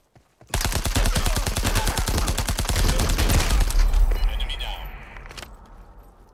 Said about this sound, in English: I have a Gatling gun